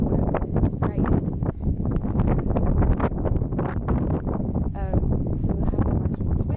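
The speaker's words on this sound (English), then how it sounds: "It's windy, but it's dry." Strong wind buffets the microphone on a coastal walk toward the beach near Barmouth and Harlech in Wales, loud gusty rumbling throughout with people talking over it.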